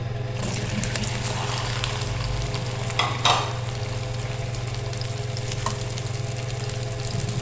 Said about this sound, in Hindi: ऑयल हमारा हो गया गर्म, अब इसमें डाल देंगे भिंडी।